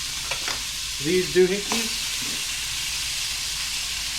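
Hogfish fillets frying in a pan, giving a steady close sizzle throughout with a brief clatter of the pan being shaken early on.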